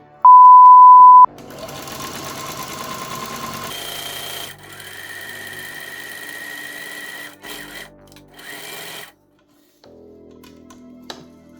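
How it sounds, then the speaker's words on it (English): A sewing machine stitches loop-side Velcro onto webbing in several runs of whirring, with short pauses and changes in speed between bursts and a faint click near the end. "Continue this stitch along the edges of the loop side Velcro to attach it to the webbing."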